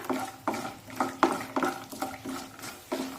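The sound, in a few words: roasting cashews and peanuts in oil in a pan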